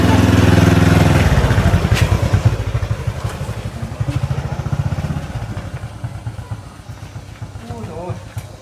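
Motorcycle ride in a rural forest village while hauling pigs, a loud close engine that starts strong then settles into a rhythmic chugging idle-like pulse with rattling, and voices briefly heard near the end.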